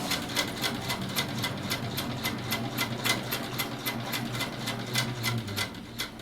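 A sewing machine doing free-motion quilting, stitching the center of flower petals on a quilt sampler, runs in a steady rapid clatter of needle strokes, close and continuous, with no talking.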